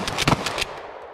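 Pump-action shotgun fired rapidly with a short-stroke pump, giving a quick cluster of sharp, loud blasts within about a second, followed by a brief decaying tail.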